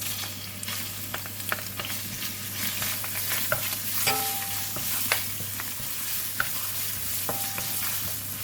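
Whole spices, star anise and curry leaves with ginger garlic paste sizzle steadily in hot oil in a pan, with scraping stirs and small pops over the continuous frying hiss.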